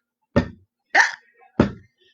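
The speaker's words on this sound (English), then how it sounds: "I used the drum to catch every beat of your hiccup." Three separate sharp hits sound about half a second apart, each a quick loud burst that fades fast over silence, timed as drum beats to a child's hiccups.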